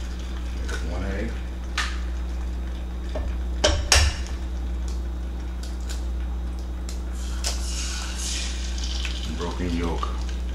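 An egg fries in a hot pan inside egg rings for a breakfast tostada, giving a steady low sizzle with a few clicks and clatters from the pan, while a person talks at the start and end.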